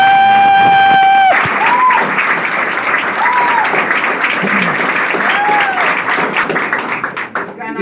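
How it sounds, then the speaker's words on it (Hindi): Applause from a seated crowd at an RCM business meeting, loud, dense and sustained for several seconds after a brief tone, with a few voices calling out over the clapping before it thins at the end. "लेकिन ये ताली बजाना शुरू कर दी"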